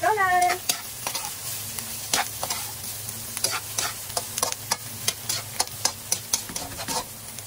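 Sponge gourd (patola) sautéing with onion in a pan gives a steady sizzle broken by repeated scraping stirs of a spatula, close and fairly loud, with no talking.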